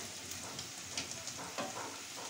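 Koftas frying in hot oil in a home kitchen, a steady close sizzle with faint crackles and a few soft scraping stirs, no voices.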